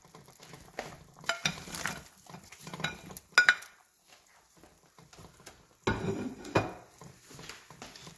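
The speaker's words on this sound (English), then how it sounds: "Give it a nice little stir." Bok choy stirred into chicken tinola in a pot, several scattered scrapes and knocks of a utensil against the pot over a faint simmer, close and uneven, with no talking.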